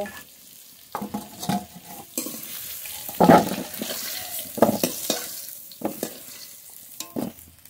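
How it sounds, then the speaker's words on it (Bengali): Potatoes fry in a pan while a spatula scrapes and stirs in repeated bursts, a soft sizzle running underneath. "আলু খুব ভালো করে ভেজে নেব।"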